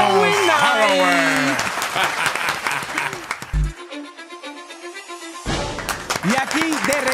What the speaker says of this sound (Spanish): ¡Para cual un fuerte aplauso!